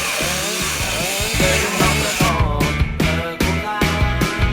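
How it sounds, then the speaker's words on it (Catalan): Chainsaw cutting branches in a chainsaw cutting competition at a vintage tractor meet in Castellolí, a loud, close engine drone that revs and bites in repeated rhythmic pulses, with no talk over it. "ara té que tallar totes les branques"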